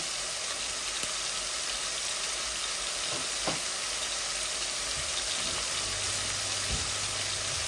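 Fish fries in oil with garlic leaves, giving a steady, even hiss of sizzling that stays fairly quiet and unbroken throughout, with only a couple of faint knocks.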